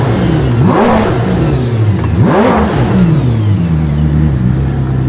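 A Koenigsegg Jesko engine climbs from idle to 7,800 RPM twice in quick succession, each sharp, rising roar falling back to a low idle hum, loud and close with no talking.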